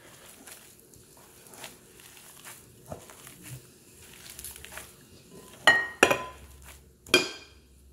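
Ground meat for smoked meatballs is worked by hand in a bowl with soft, faint squelching, then a few sharp clinks of utensils against the dish near the end.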